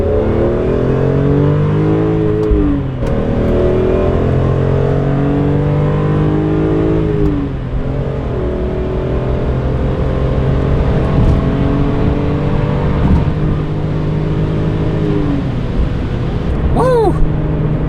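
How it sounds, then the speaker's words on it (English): BMW E46 M3 with SMG gearbox and a possible compression-spring fault, its engine revving hard while driving, with rising and falling sweeps through the gears, loud and close inside the car. "You guys got to experience this engine in this car"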